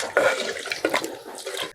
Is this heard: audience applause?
no